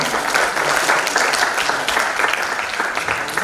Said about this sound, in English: Please give applause for Dr. Furkan.